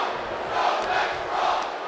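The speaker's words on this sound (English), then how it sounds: "And Theory is firing up the crowd here" Virtual arena crowd in the wrestling video game WWE 2K24 cheering and chanting, a steady broad roar with swelling pulses of voices.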